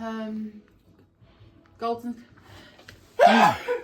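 A single sharp, loud sneeze bursts out near the end, just after someone says a word during a Christmas kitchen session making treacle toffee.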